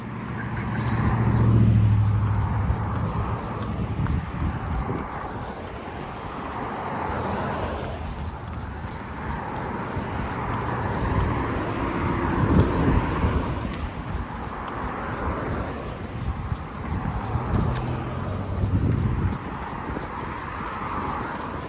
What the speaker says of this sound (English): Flight path today for every passenger airline is landing is directly over us because of the direction the wind's blowing.